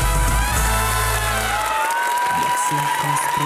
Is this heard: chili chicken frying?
no